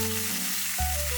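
Zucchini pieces and chicken thigh pan-fry together in a hot pan, a continuous close sizzle with a brief shift in tone as food is moved, no talking.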